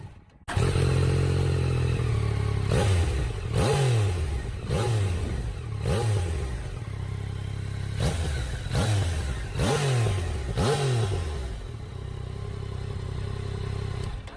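A 2019 Yamaha Niken three-wheeled motorcycle with a 900 cc CP3 three-cylinder engine idles close by, then is blipped through about seven quick throttle revs, each rising roar falling back to a steady idle.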